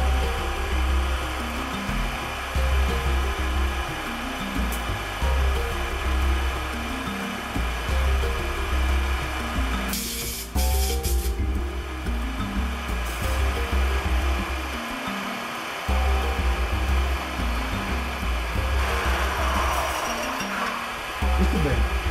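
A drill bores a hole through a lubricated aluminum profile, a steady mechanical whine with harmonic bands that holds close and loud for the whole stretch, with brief dips and a few rougher bursts as the bit cuts.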